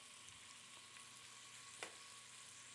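Meatballs sizzle and fry in an oiled pan, a steady close crackling hiss that runs throughout with one brief sharper pop partway through.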